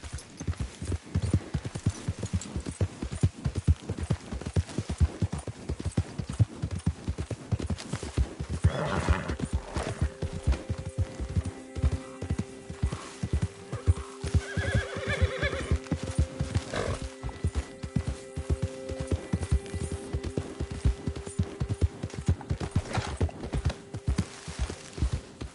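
Horse hooves clip-clop in a steady gallop through Red Dead Redemption 2, with loud whinnies and neighs breaking in over the running rhythm throughout.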